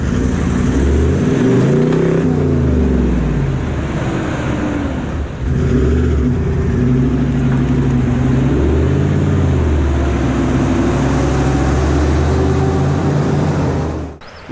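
A V8 car engine revs while driving on roads in South West Western Australia, loud and continuous, its pitch climbing and falling in several surges with a brief dip midway.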